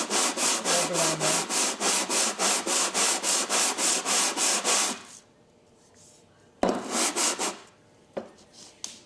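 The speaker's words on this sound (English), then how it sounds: "flattening the bottom, and I just have sandpaper from 120 all the way up to 600." A vintage Diamond Edge hand plane's sole is rubbed back and forth on sandpaper, a loud, rhythmic gritty rasp of about fifteen quick strokes, then a pause and a few slower scrapes.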